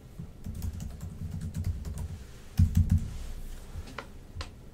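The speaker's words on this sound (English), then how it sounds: "I'll type them a short message" Short run of typing on a computer keyboard with a burst of louder keystrokes partway through, close and alone with no talk.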